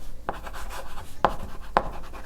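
Marker or chalk writing code on a board: scratchy strokes with three sharp taps, close and alone in a quiet room.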